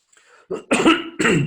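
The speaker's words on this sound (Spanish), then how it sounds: "Perdón por esta tos." A man gives a short run of three harsh, close coughs, the first softer and the last two louder and rougher, with no speech in between.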